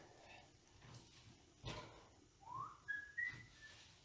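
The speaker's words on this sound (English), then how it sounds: "Stop whistling." A person whistles a few short rising notes, fairly clear against a quiet, muffled room background.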